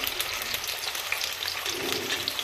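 Chopped onions fry in a pan for uggani, giving a soft but busy sizzle with rapid, fine crackling pops throughout.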